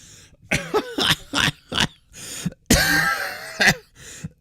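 Several harsh coughs and throat-clearing bursts in quick succession, close up, with one long rasping cough in the middle.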